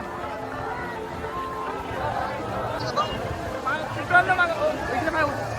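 Dense crowd chatter and babble at a night celebration in Amravati on 13 April, heard from above, with someone speaking close over the steady hubbub and occasional brighter shouts.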